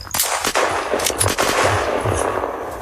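Rapid bursts of gunfire in the video game Unturned crackle loudly and almost without pause, shots piling on top of one another in a dense, chaotic volley.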